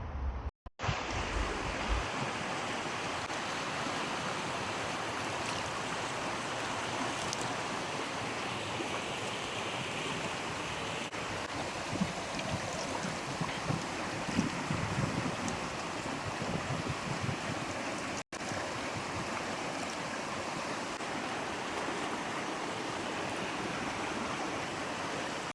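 A flowing stream near Bran Castle in Brașov, Romania, its water rushing in a steady, continuous wash from start to finish, fairly close and loud with light wind noise on the microphone and no voices.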